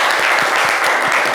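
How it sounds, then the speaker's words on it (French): A studio audience applauds for a caller named Michel on a live show, a brief, dense burst of steady clapping heard close and loud throughout. "On va applaudir Michel."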